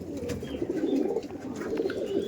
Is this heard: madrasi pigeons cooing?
yes